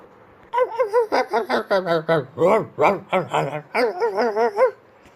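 A dog gives a rapid run of barks and yelps that rise and fall in pitch, close and fairly loud, with a short pause partway through.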